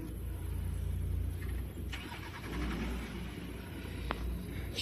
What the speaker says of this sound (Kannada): ಸ್ಟಾರ್ಟ್ ಆಯ್ತು ಗಾಡಿ.